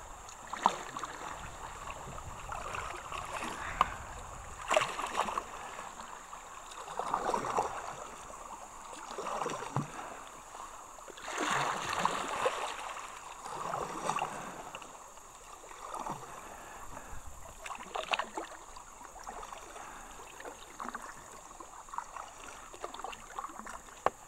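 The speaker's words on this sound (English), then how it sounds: "I'm going to start paddling back" Paddling a small boat downstream on the Sipsey River through swamp, quiet water sloshes and paddle strokes recurring every few seconds over a soft flowing background, fairly faint and without talk.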